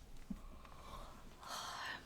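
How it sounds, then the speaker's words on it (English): A person yawns close to the microphone: a soft intake followed by a breathy, drawn-out exhale, brief and quiet. "Sorry about the yawning today."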